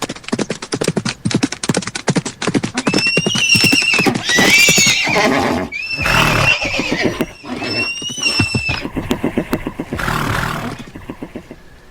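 Several horses neigh and whinny loudly over rapid hooves of a runaway carriage in a radio drama, with repeated shrill calls rising above the galloping clatter and no voices.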